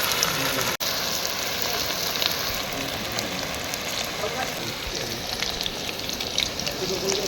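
Chicken pakora frying in hot oil, a steady dense sizzle and crackle filling the whole stretch, close and fairly loud, with a brief dropout near the start and no talk over it.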